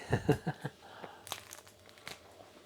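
Crunchy ciabatta bread torn and bitten up close, a quick run of dry crackling crunches followed by quieter crumbly tearing and a few sharp crisp snaps, faint overall.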